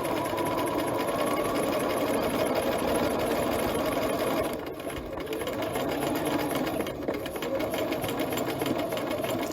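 Sewing machine running steadily while stitching a patch pocket for a Simplicity 8133 pattern, a continuous close mechanical whir with a brief slowdown midway before picking back up.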